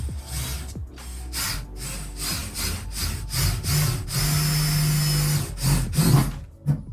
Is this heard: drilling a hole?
yes